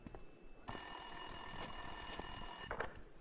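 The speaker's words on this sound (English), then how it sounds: "Winterson's phone was ringing." An office desk telephone rings in Max Payne 2, a steady electronic bell tone sounding as one continuous ring from close by, with no voices over it.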